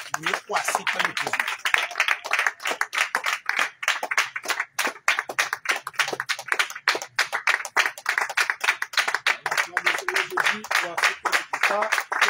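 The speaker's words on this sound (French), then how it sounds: "On acclame le Seigneur Jésus." A crowd at a church prayer service claps steadily and rhythmically, loud and sustained, with voices mixed in.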